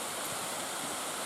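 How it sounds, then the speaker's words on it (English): A waterfall on the way to Mystic Falls roars as a dense, steady broadband rush, loud and close, with no voices over it. "This is the first waterfall, and then behind it is going to be the main event."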